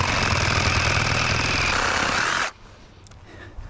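A Milwaukee power saw cuts through house siding with a loud, steady, rattling buzz for about two and a half seconds, then stops abruptly, leaving quiet background noise.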